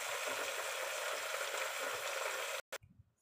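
Sweet potato leaves sautéing plain in a covered pan give a steady, close sizzle and frying hiss that runs for about two and a half seconds, then cuts off suddenly, followed by a few soft bumps.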